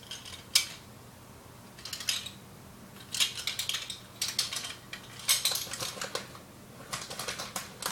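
A measuring spoon scrapes and scoops baking soda for bread, giving several short, crisp scratchy bursts in quick clusters, close and fairly quiet, with brief pauses between them and no talking.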